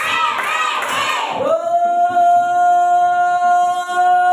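A group of children in a classroom shouts a spirited chant together, several rising and falling voiced syllables, then a long held tone that rings steadily to the end.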